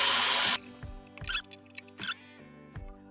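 Water is poured into cooked masala in a pot while making chicken korma: a loud, rushing splash for about half a second, followed by quieter scattered clinks and squeaky stirring sounds.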